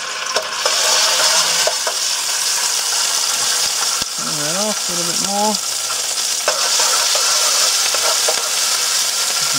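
Fish curry ingredients sizzle and crackle steadily in a hot pan, with a few clinks of a utensil and a brief spoken remark partway through.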